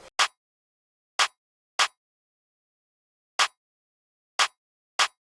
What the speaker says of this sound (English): I just played this very simple clap pattern and ended up sounding like this.